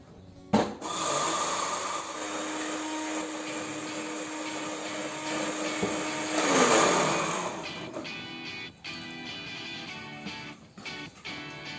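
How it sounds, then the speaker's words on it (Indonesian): An electric blender grinds fishing bait ingredients, a loud, continuous whirring motor with a rough, buzzing texture that surges briefly midway and then winds down with a few clunks near the end. "Nah, ini kita blender, kita haluskan dulu."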